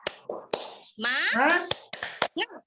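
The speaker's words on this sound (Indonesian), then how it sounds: "Tepuk semangat" An indoor ice-breaker clapping cheer, a few sharp claps and taps mixed with voices chanting and speaking between them, close and fairly quiet.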